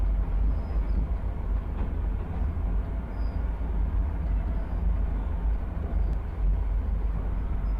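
A train running in a video game, a steady deep rumble of rolling wheels and carriage noise with faint high squeals, continuous and close with no talking.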